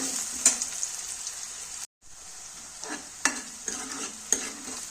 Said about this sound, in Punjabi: ਭੁੰਨ ਲਵਾਂਗੇ ਜਦੋਂ ਤੱਕ ਇਹ ਗੋਲਡਨ ਬ੍ਰਾਊਨ ਹੁੰਦੇ ਨੇ ਉਦੋਂ ਤੱਕ ਆਪਾਂ ਇਹਨਾਂ ਨੂੰ ਹਿਲਾਵਾਂਗੇ